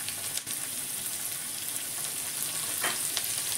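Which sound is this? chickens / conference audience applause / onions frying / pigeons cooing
onions frying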